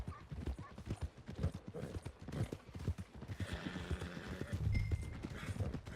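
Horse hooves clip-clop repeatedly at stables in a video game, with an occasional neigh rising near the end over a steady ambient background.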